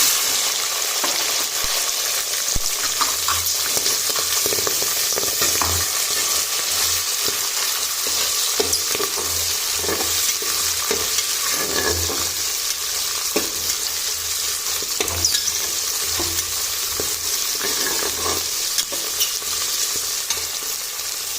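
Mustard seeds, cumin, curry leaves and dal fry in hot oil, a steady bright sizzle running throughout with occasional crackles and stirring.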